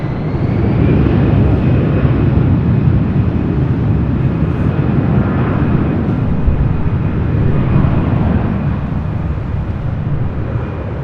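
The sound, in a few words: airplane taking off from LAX runway 24 left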